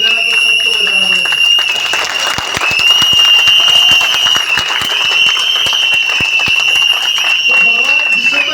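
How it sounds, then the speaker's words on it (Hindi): Audience applause from a crowd, steady dense clapping that runs the whole length at fairly loud level, with a high tonal whine sustained above it. "ताली बजाना तो सबको बजाना है।"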